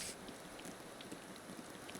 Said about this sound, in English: it's hailing for some reason